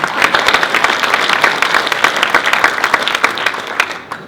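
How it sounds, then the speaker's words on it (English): Applause for a guest at a city State of the City event, a dense, even patter of many hands clapping close by for about four seconds before it begins to thin out at the end. "let's applaud for Greg Martinez"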